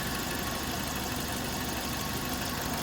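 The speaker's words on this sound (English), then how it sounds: "I can hear the AC compressor is now turning." The AC compressor of a 2011 Kia Soul runs under the hood with a steady, even mechanical hum and whir, continuous and moderately loud with no pauses.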